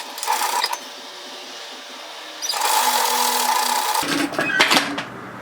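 Sewing machine stitching the side seam of a Blake dress, running in two bursts of steady mechanical whirring with a short pause, ending in a few clicks and knocks of the mechanism, close and fairly loud.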